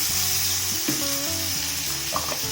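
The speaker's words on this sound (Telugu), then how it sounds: "వేసి ఒకసారి కొంచెం సేపు ఫ్రై అయిందంటే ఆ పచ్చి వాసన అంతా పోతుంది అన్నమాట." Ground onion masala paste frying in a pan, a dense, constant sizzle close up, with tonal background sounds drifting underneath.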